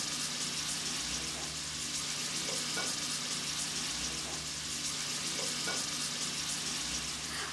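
Veal browning in a hot pan gives a steady, close sizzle and crackle of frying meat that continues evenly throughout, with no talking.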